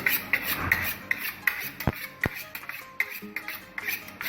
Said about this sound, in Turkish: Bıçağımızı iyice keskinleştiriyoruz.